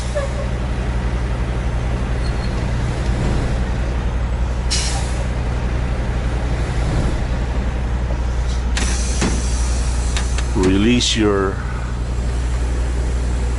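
Air brakes hiss and release on a semi truck coupling to a trailer at a cold-storage yard, a loud pneumatic burst rising over steady engine idle, with squeaky mechanical sounds near the end.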